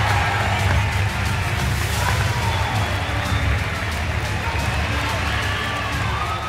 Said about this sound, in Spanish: Un fuerte aplauso para Virus y para Selao.